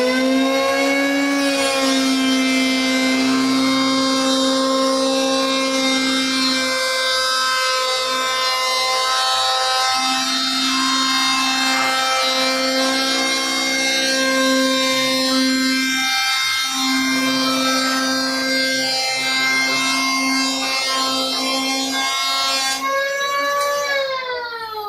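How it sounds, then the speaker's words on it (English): An electric hand planer runs over sassafras lumber, its loud, close motor whine holding steady for the whole pass, with brief dips in tone as the blade bites the wood. "Let's get ready to enjoy electric hand planer sounds"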